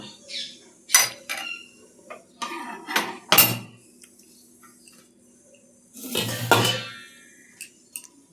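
A cooking pot clatters as it is set on a stove to boil mango in a home kitchen, with several sharp metallic clanks and scrapes of pans and utensils, close and fairly loud, including a longer rattling burst near the end.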